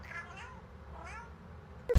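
An indoor house cat gives two drawn-out meows, close and moderately loud over a low background hum, ending with a sharp knock.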